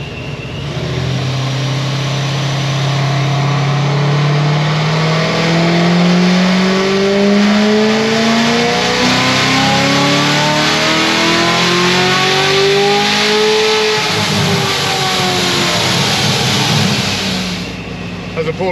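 A 1250 HP C7 Corvette Z06 on pump gas and 20 pounds of boost makes a dyno pull. The engine roars loudly and steadily climbs in pitch for about fifteen seconds before easing off.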